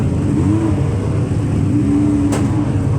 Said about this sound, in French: Les voitures retournent en piste.